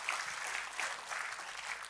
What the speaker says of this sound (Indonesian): Kita kasih tepuk tangannya boleh paling meriah buat Tuhan kita